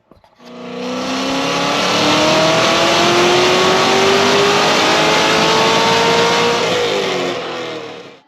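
A C6 Corvette Z06 engine with new cylinder heads revs hard on a dyno, steadily climbing in pitch for several seconds, loud and close, then cuts off abruptly.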